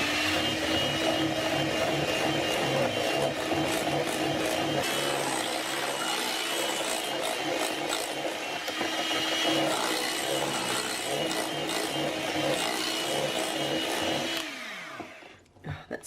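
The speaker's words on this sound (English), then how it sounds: "And we'll just whisk it until it's smooth and creamy." Continuous loud whirring drone of an electric whisk beating peanut butter with stevia in a bowl, steady for about fourteen seconds before the motor cuts off and winds down.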